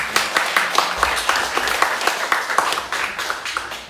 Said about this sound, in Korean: 우리 축하와 격려의 박수 하시겠습니다